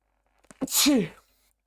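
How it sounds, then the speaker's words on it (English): A single close, loud sneeze, preceded by a few short breaths and ending in a brief falling vocal tail. "I need to sneeze."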